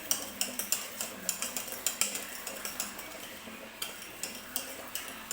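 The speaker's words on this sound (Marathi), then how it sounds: "एकाच बाजूने मिक्स करायचं आहे ढोकळ्याचं बॅटर" A spoon stirs dhokla batter in one direction in a bowl, producing a steady run of quick, close clinks and scrapes, roughly two or three per second, with no voices.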